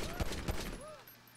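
Gunfire in Grand Theft Auto V on PC, two heavy shots about a third of a second apart, close and loud, followed by a quieter tail with tonal game sounds.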